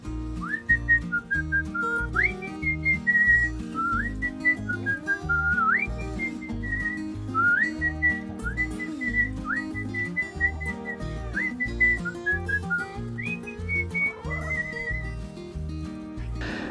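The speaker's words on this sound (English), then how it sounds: "I want to whistle it to you right now because I really am a good whistler" A person whistles a bouncy melody over a rhythmic musical backing, the tune rising and falling in short phrases throughout.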